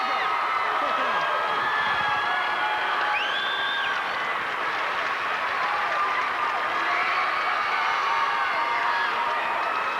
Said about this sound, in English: And you hear a big cheer go up for Troy Sunderland.